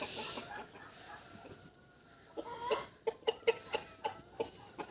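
Hens cluck nearby in a quick series of short, rhythmic clucks after a stretch of soft rustling and background noise.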